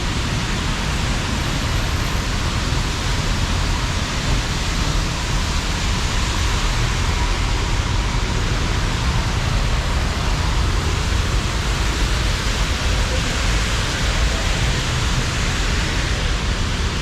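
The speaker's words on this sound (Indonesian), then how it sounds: "Jakarta hujan, macet." Steady, dense roar of heavy rain at night in a Jakarta traffic jam, broadband and unbroken throughout, with a low rumble of idling traffic underneath; no voices.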